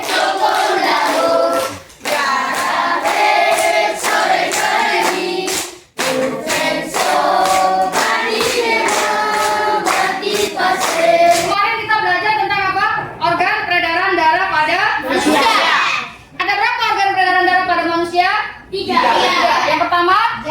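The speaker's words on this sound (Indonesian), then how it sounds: "1 tepuk tangan, 1 tepuk paha" Children in a classroom clap their hands and pat their thighs in a steady rhythmic pattern, the slaps running under continuous speaking and chanting voices.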